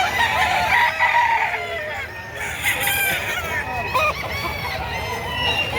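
Kanawayon Hatch gamecock rooster at a market, crowing loudly and clucking over a noisy background of other roosters.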